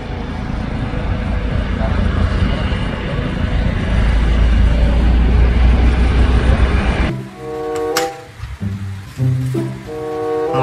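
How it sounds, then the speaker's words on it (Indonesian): A toy helicopter gives off a loud, steady whirring drone, then cuts to a brief toy sound effect with a voice speaking. "Helikopter."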